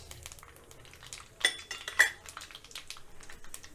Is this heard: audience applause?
no